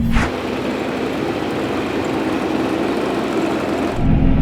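A tractor engine runs steadily while pulling a Tajfun GAP140 forestry trailer in a forest, a continuous close, loud drone with a low hum that carries on unbroken and alone.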